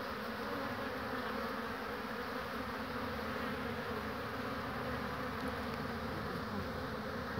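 Honeybees buzz steadily at a hive while foragers fly off with pollen, a dense, continuous close hum with no talking.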